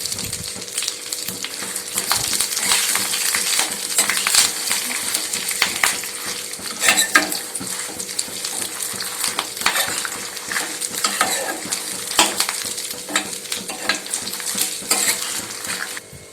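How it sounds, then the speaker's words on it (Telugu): Curry leaves and cumin seeds frying in a pan for curry leaf spice powder, a steady close sizzle with frequent scraping stirs and light metal clinks throughout, no voices. "కరివేపాకు కూడా కొద్దిగా ఫ్రై అయిన తర్వాత దీనిలో జీలకర్ర యాడ్ చేస్తున్నానండి."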